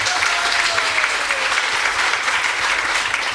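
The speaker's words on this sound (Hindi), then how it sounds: "एक बार पसंद आई हो बात तो जोर से ताली बजाइए।" An audience at a Hindu religious discourse on Ram claps loudly and continuously, a dense wash of applause from a large crowd filling the whole moment, with no voice over it.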